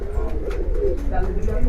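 A tournament pigeon at a poultry club pigeon tournament coos softly in low repeated murmurs, close by, with faint background noise throughout.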